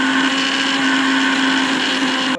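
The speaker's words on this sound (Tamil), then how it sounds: "அரைச்சிருவோமா?" A mixer grinder grinds henna leaves, running as a loud, steady electric whine with a constant high hum for a couple of seconds before it cuts off at the end, with no voices.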